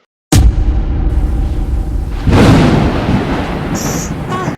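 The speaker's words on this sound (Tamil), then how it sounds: "என்ன இப்படி மழை பெய்யுது?" Heavy rain pours down with deep rumbling thunder, starting abruptly and staying loud and dense throughout, with a swell of stronger roar partway through and no voices.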